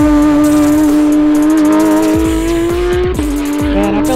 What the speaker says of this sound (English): I think it's the GT3. I don't know if it's the RS version